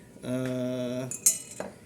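A plate used while testing honey purity gives a sustained ringing, squealing tone for almost a second, then a sharp brief clink and a softer knock of crockery, close and fairly quiet.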